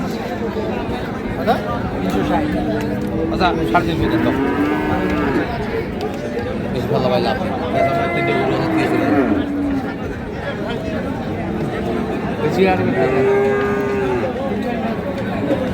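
Several cattle, including bulls, moo in long, low calls over a busy crowd of chattering voices at a cattle market in Noakhali, the lowing repeating every few seconds throughout.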